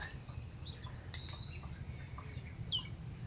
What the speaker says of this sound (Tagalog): Pinutakti na to ng ibon.